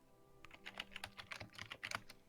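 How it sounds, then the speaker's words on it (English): Heavy typing on a computer keyboard: a fast, dense run of clacking keystrokes played close and fairly loud, with no talking over it. "I'm too distracted by the heavy typing"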